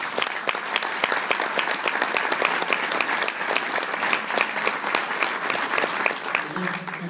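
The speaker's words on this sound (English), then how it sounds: "I just really like to give them a round of applause again." Audience applause during a speech honoring coaches, steady dense clapping from a sizable crowd, loud and continuous throughout.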